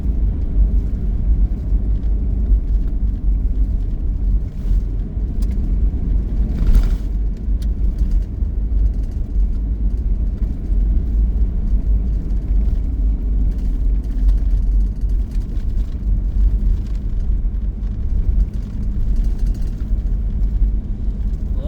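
A car driving fast along a smooth rural road, producing a steady, loud rumble of engine and tire noise that holds constant throughout with no talking.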